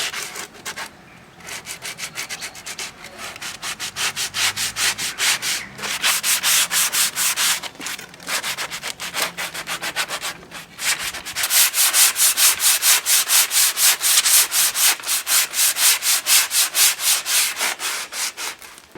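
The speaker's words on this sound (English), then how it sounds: "we're using a coarse sanding block to rub down all of the rough furred edges all along all the sides of it" A coarse sanding block rubs back and forth along the rough, furred edges of an outdoor wooden table in steady rasping strokes, loud and close, with brief pauses between passes.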